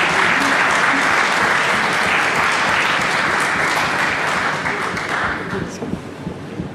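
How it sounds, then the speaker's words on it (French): Sustained, dense applause from a crowd gathered outdoors for the inauguration of a renovated school courtyard, steady and loud throughout before tapering slightly at the end. "Donc on peut les remercier et puis applaudir tout le monde."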